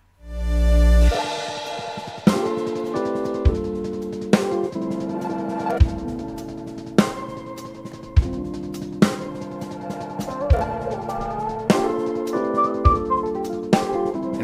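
A drum kit plays a steady triplet groove with regular heavy accents and cymbal hits, loud and close, opening on a sustained low crash.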